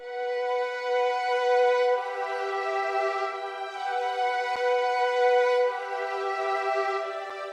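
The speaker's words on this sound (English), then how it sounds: "I just wanted to add some strings to just kind of have in the background" An ambient strings loop treated with tape, echo and heavy reverb holds soft sustained chords that swell gently and shift once or twice, smooth and steady with the lows cut away and no voices.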